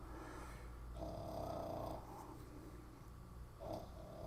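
A dog snores nearby with slow, raspy breaths, each snort rising and falling over a few seconds against a low steady hum.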